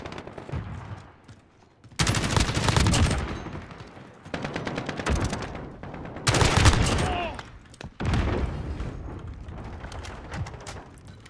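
Kilo 141 assault rifle in a video game fires in several rapid automatic bursts, loud and close, separated by brief quieter gaps with some background game noise.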